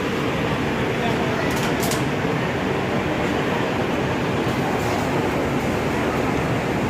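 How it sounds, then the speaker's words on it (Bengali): A train pulls out from platform 12 at Sealdah station, the Rajdhani Express bound for New Delhi, a steady broadband rumble of rolling wagons filling the space continuously, with brief high hissing bursts and a voice talking over it. "শিয়ালদা স্টেশনে 12 নম্বর ট্রেন ছেড়ে দিয়েছে একদম"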